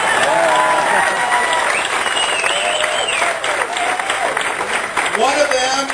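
A room in the California Legislature fills with loud, sustained applause from a crowd, with voices and cheers mixed into the clapping.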